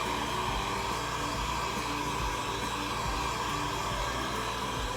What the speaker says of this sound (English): The reason I like my heat gun is it's quiet.